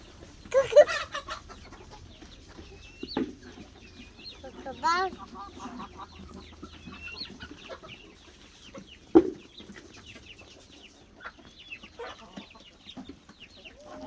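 Chickens with unusual crested heads cluck and squawk on a farm alongside turkeys and ducks, scattered calls near and far, with a loud squawk burst early and people talking quietly in between.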